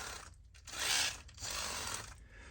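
An RC rock crawler's transmission whirs roughly with an uneven, rasping drone like a sputtering chainsaw, its misadjusted pinion surging and dipping in loudness over a couple of seconds, close and alone.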